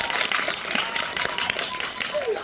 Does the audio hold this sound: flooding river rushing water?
no